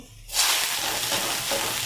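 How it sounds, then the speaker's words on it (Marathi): Chopped onion hits very hot oil for a tempering in a spicy brinjal curry, bursting into a loud, steady sizzle after a brief quiet start. "कांद्याची फोडणी देणार आहे कांदा घालते"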